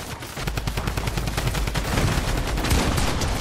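Rapid gunfire from a Fortnite match, a dense run of close, loud shots firing in quick bursts with no talk over it.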